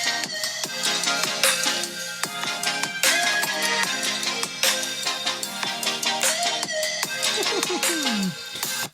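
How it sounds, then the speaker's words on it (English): Stereo speakers on a HONOR Magic 6 Pro phone play rhythmic music with steady beats and melodic tones, fairly loud and continuous throughout. "And it's got stereo speakers which sound like this."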